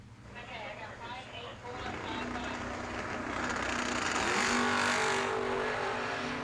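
Bracket drag racing cars, including a Camaro, launching down the strip, engines roaring and building in a rising rush, loud and continuous with an announcer's voice over the top.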